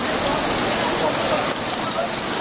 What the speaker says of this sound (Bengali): আমরা এখানে এসেই প্রচণ্ড ঝড় বৃষ্টির কবলে পড়েছি।